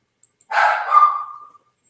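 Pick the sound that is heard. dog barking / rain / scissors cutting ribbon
dog barking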